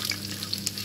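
Curry leaves and mustard seeds sizzle in hot ghee in a pan, a brief close crackling fry with small pops over a steady hiss.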